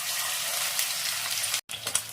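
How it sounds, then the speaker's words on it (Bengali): Fish fry pieces deep-frying in hot oil over a medium-high flame give off a loud, steady crackling sizzle that fills the whole moment, with one brief cut to silence near the end and no talking. "এবার ফিশ ফ্রাইগুলো ছাড়ছি।"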